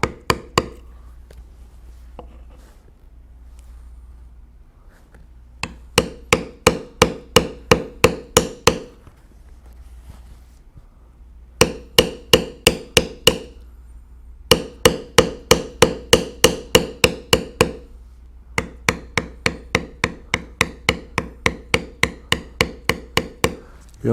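Leather tooling on a tiger head carving, a carving tool struck hard with a mallet in three quick bursts of evenly spaced sharp taps, loud and close, with short pauses between runs and no talk.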